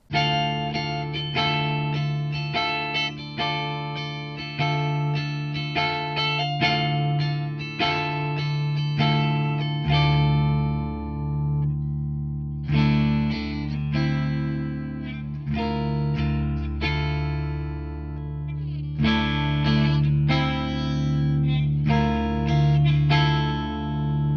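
Clean electric guitar with an active HB SC Custom II pickup set in the middle position plays chords and picked notes in phrases, bright and ringing with a touch of shimmer, no talking.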